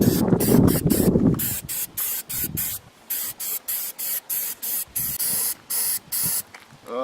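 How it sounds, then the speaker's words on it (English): An aerosol spray can painting in a garage-like space, a loud continuous hiss followed by a rhythmic series of short, evenly spaced spray bursts. "Oh, I think I just got some overspray."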